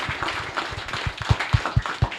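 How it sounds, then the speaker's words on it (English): Applause at the close of a tech conference talk on internet payments: a modest group claps, with individual claps landing in a fairly regular, distinct rhythm that grows sharper toward the end. "one final round of applause"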